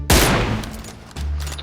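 Gunfire in the video game PUBG: a sharp, loud burst of rapid shots followed by a second short volley, up close and with no talk over it.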